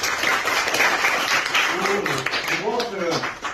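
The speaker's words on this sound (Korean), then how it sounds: "오, 박수." Students in a classroom break into a short burst of applause, dense clapping that fades as a voice starts talking.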